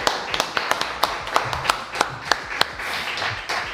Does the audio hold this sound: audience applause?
yes